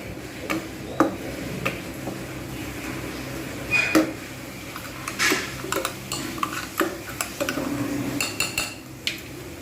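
A spoon scrapes and clinks against a pan while cashew and green chili paste is stirred into egg korma, irregular metallic taps and knocks at close range with no voices.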